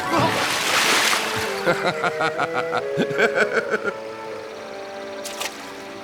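River water splashing during a crossing, a quick series of rhythmic splashes and sloshes close by, mixed with chuckling voices and a little talk.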